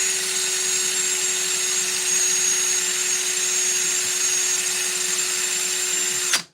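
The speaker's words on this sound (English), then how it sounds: "I'm going to throw the drill in reverse and do the other side." Power drill running continuously in reverse while carving a wooden ghost figure, a steady high whirring hum with a constant tone that cuts off abruptly at the end, no talking.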